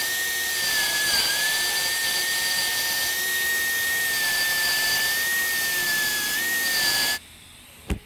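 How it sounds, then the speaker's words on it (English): A 90-degree die grinder feathers a weld tie-in on a boiler tube, giving a loud, steady high-pitched whine that runs for about seven seconds, then cuts off, followed by a brief thump. "This is a die grinder, 90, and I'm just gonna use this to feather my tie-in right here."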